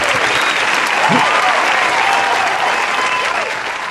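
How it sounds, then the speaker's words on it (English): Steady, loud applause from a crowd, continuous and even throughout, with a faint voice briefly audible underneath early on. "And here's your applause."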